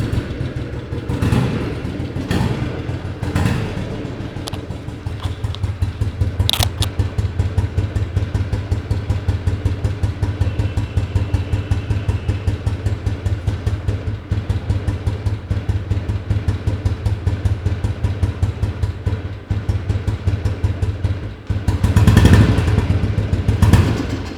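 A vintage Royal Enfield Bullet motorcycle, a G2 or B1 model, is kick-started with a few thumps and then settles into a loud, close, steady single-cylinder thumping idle that continues alone.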